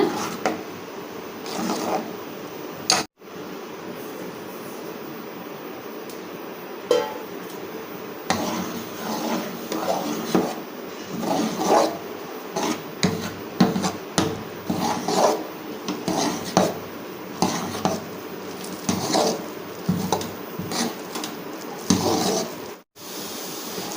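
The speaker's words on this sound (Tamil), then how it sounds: "பாருங்க கட்டி இல்லாத நம்ம மாவு போட்டு இப்படி கிளறிங்க" Repeated scraping and rasping strokes of a utensil working through thick pearl millet flour dough in a pressure cooker pot, steady and close, with brief pauses between bursts.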